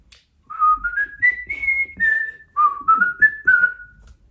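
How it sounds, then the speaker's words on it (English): A person whistles a melodic tune alone, with clear sustained notes rising and falling in two phrases, close and moderately loud. "Listening to me whistle?"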